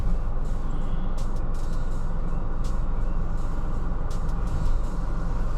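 A 2021 Ford Bronco is underway, heard as a steady low rumble of engine and road noise with faint rattles and ticks on top. It is continuous and fairly loud, with no voices.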